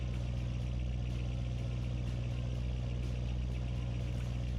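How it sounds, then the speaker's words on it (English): Steady, continuous engine drone from a Ford Mustang in a racing video game, a low idling rumble that holds evenly throughout without revving or breaks. "the engine sound for it is amazing"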